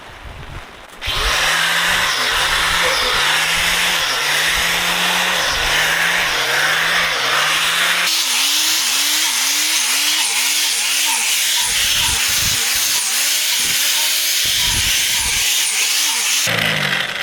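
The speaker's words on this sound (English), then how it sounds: "we got our side grinder here with our 1-inch bit right there. That's gonna drill our holes" A loud motorized side grinder with a 1-inch bit drones continuously, boring holes in a log, its engine pulsing in a steady rhythm, dropping pitch partway through and stopping briefly near the end.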